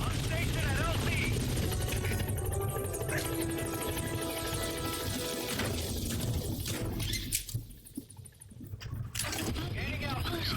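The B-Quad transport helicopter arrives at a landing zone in Metal Gear Solid V, its rotor churn loud and steady before dipping briefly near the end, with radio chatter over it.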